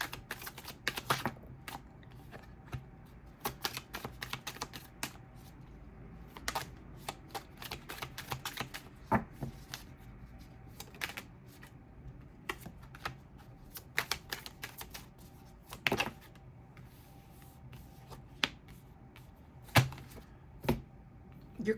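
Tarot cards being shuffled by hand, a steady run of soft riffling flicks and slaps that comes in quick clustered bursts across the whole stretch, close and fairly quiet, with no talking.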